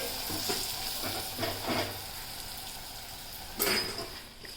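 Potato pieces and turmeric are stirred in a pan, giving soft scraping strokes and a light sizzle, with a sharper scrape near the end. Fairly quiet, with no voices.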